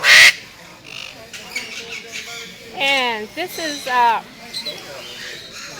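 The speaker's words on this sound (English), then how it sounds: "The alexandrine parakeet." An Alexandrine parakeet gives a few loud, harsh, rising squawks in quick succession, close by, while a person speaks around the calls.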